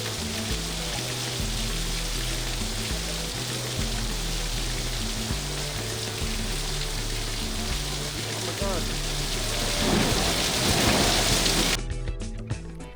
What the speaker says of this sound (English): I'm woken by this crazy storm